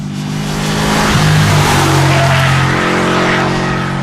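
A loud, close Subaru WRX STI engine revs hard and roars continuously, its pitch shifting as it climbs through the gears.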